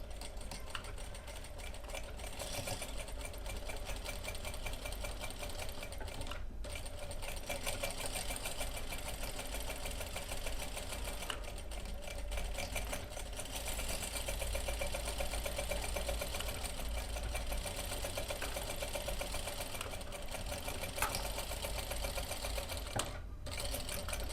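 A sewing machine runs a straight lock stitch in a steady, fast mechanical whir with rhythmic needle clatter, close and continuous, with brief pauses where the stitching stops for a moment.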